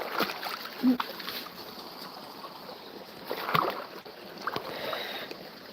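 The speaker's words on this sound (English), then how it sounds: "Have a little splash." A husky dog splashes in a brook in Vermont, giving intermittent splashes and sloshing water over a steady background of running stream, with scattered bursts a few seconds apart.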